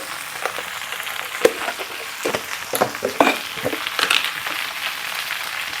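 Pumpkin curry sizzles in a pan while being stirred, with close, irregular scraping and clattering of a spoon against the pan over a soft, continuous frying hiss.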